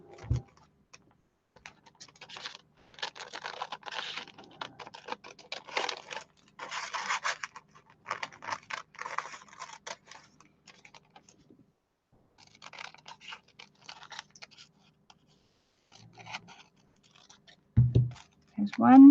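Scissors cutting pink cotton fabric pieces, with crisp, close snipping and scraping strokes in irregular bursts separated by pauses, plus a short thud near the end.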